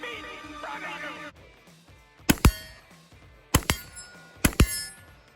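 Three loud, sharp gunshots from a budget-built AR-15 rifle fired at about 40 yards, spaced roughly a second apart after a stretch of quieter background, with the reports standing alone and no talk over them.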